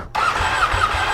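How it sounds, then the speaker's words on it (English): A brand-new 2019 Ducati 959 Corse motorcycle fires up from cold and idles close by, with a deep, throbbing engine rumble that pulses unevenly throughout. "here's the cold start of the brand new 2019 Ducati 959 Corse"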